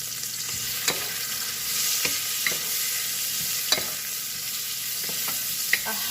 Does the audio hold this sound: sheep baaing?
no